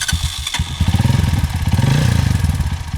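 Honda XR 200 trail motorcycle engine on a dirt trail, a close, loud single-cylinder putter that sputters briefly then revs up in rapid pulsing bursts.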